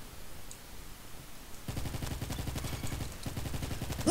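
A gun firing in a Roblox video game: a short quiet stretch, then fast, evenly spaced automatic shots, loud and close, that pause briefly and start again.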